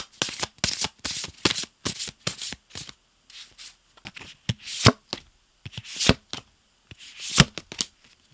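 Tarot cards being shuffled by hand in a series of quick riffling bursts, some short and some longer, close up and moderately loud with brief pauses between, no voices.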